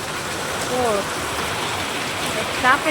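First monsoon rain falling steadily as a continuous broadband hiss, with a couple of brief voice-like sounds in the background.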